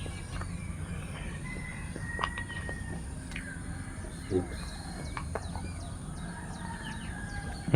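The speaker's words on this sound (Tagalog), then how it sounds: "mga huni-huni ng ibon, mga unang manok" Scattered bird chirps and calls over a steady low background hum, with occasional faint clucks from roosters in the distance.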